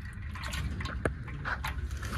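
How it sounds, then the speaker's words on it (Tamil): Gearbox oil mixed with water drains from a Fiat Punto, giving soft liquid trickles and drips, quiet and close, with a few faint splashes and no talking. "இப்போ நான் இதை கியர் பாக்ஸ் ஆயிலை டவுன் பண்ணி செக் பண்ணுறேன்"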